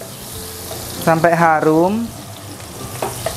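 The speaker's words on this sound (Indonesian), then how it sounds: "Masih dengan minyak bekas goreng ikan teri, kita sisakan sedikit. Kita mau tumis lengkuas" Galangal frying in a little leftover anchovy frying oil, a soft steady sizzle running throughout under a woman's brief speech.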